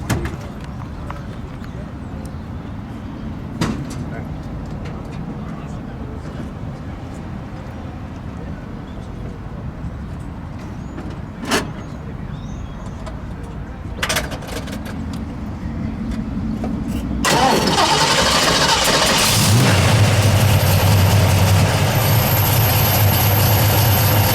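Low background rumble with scattered knocks and bumps, then the 429 V8 of a 1970 Ford Torino Cobra with a 4-speed starts near the end and settles into a loud, throaty idle.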